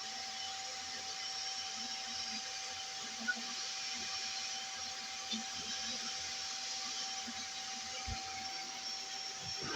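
A Creality K1 3D printer prints with a constant fan-driven whir and a faint steady tone, plus a few soft clicks, at moderate distance with no talking.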